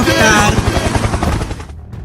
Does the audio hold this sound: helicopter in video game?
yes